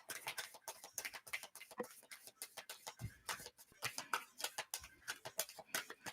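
A deck of tarot cards is shuffled at close range in quick, rhythmic bursts of soft riffling and tapping, quiet and repeated throughout.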